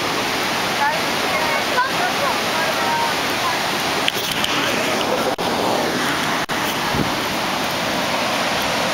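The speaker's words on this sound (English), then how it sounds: "Everything is flooded also with water." Rushing floodwater roars continuously, a broad steady wash like a torrent, loud and unbroken throughout.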